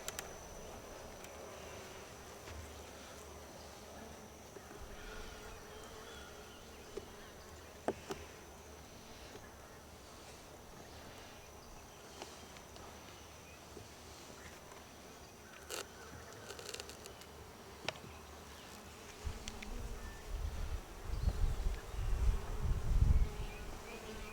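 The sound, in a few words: honey bees buzzing in hive during inspection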